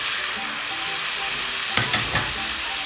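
Fried chicken tipped into pasta sauce in a pan, a constant loud sizzle with a couple of sharp stirring scrapes near the end, no talking.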